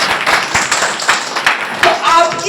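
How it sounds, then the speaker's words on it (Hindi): Audience clapping at a talk on poison and cell damage, a burst of hand claps repeating in uneven bursts across the whole stretch, fairly loud and close, with some voice mixed in. "एक बार जोरदार ताली आप सभी लोग"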